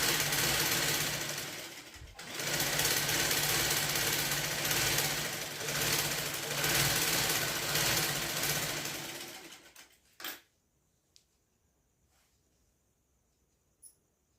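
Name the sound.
sewing machine stitching a blouse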